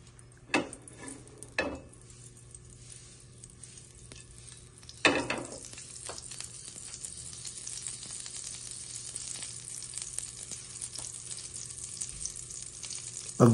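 Oil and butter sizzle in a pan for salt and pepper beef steak, with a quiet steady hiss and a few clanks of a utensil against the pan.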